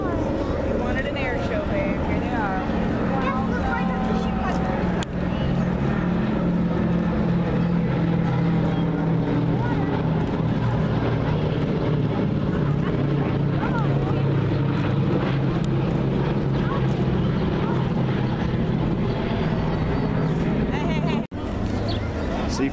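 A WWII B-17 bomber flies over, a loud, steady, low engine drone lasting throughout with wind buffeting the microphone and voices faintly in the background.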